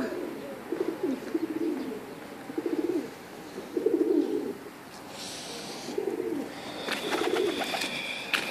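Iraqi Azraq pigeons coo in a steady series of soft, low, rolling calls about once a second, moderately close, with faint background noise and no talk.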